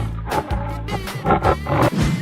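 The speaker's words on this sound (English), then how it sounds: "tiger," A cartoon tiger from a funny animal game lets out a few loud roaring growls in bursts, with steady music underneath.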